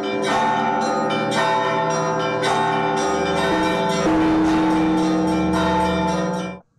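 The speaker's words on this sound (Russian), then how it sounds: "Жители города услышали звон колоколов храма во имя Казанской иконы Божьей Матери." Orthodox church bells ring loudly and continuously, several bells of different pitches overlapping in a dense, rhythmic peal that stops abruptly at the end.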